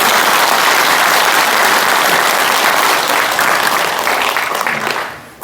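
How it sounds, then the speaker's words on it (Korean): An audience at a Korean book launch event gives loud, sustained applause that fills the room, then tapers off at the end. "여러분 뜨거운 박수."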